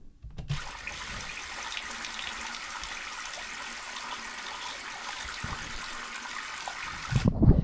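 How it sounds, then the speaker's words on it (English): Continuous hissing rain-like water noise, steady and fairly soft, like rain hitting a house with water running down the gutters, a faint gurgle of running water, ending in a brief low clatter. "it sounds like you're in a house and the rain is hitting the house and water's going down the gutters"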